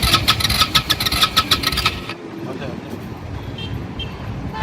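A motorcycle engine, waterlogged after being submerged, rattles loudly in rapid pulses for about two seconds as it tries to start, then cuts out, leaving a low rumbling murmur.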